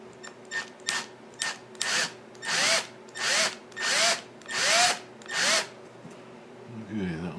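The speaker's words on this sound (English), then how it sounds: "Now I get my eyeballs lined up here and get that hole drilled in there." A power drill bores screw holes for a Piper Super Cub widebody windshield in about eight short close bursts, each whine rising and cutting off, growing longer toward the end.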